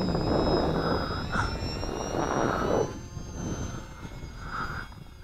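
Electric motor of an XK DHC-2 A600 RC airplane whining loudly as it lifts off and pulls away, easing down to a lower hum as it flies off, with faint talk under it.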